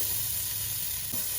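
Sliced onions fry in ghee in a pot for chicken biryani, a steady, close and loud sizzle that keeps going without a break.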